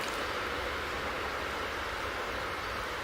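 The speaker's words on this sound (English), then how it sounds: "There's a train going by." A train passes and produces a steady, loud rushing rumble with no breaks, a broad, continuous wash of rolling noise that holds at one level throughout.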